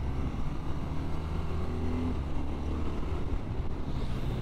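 A 2024 BMW R12 NineT motorcycle riding on open road, a steady close engine drone and rushing wind noise that holds constant throughout, with no talking.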